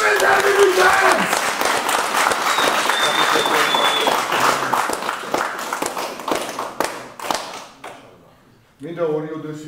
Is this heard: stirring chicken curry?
no